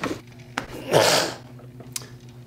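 A single sharp sneeze bursts out near the middle, close and loud, with small breathy noises before and after.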